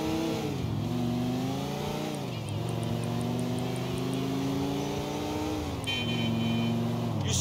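A car driven in Grand Theft Auto IV hums with a steady engine drone that rises and falls as it shifts and accelerates, continuous and fairly loud throughout, with a brief chime of game sounds near the end.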